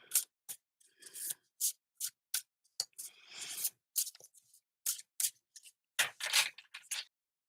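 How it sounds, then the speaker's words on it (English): A tarot card deck shuffled by hand in a series of quick papery riffles and flicks, close and crisp, with short pauses between bursts and no talking. "Almost hypnotic when I'm shuffling, especially when there's more than one color there."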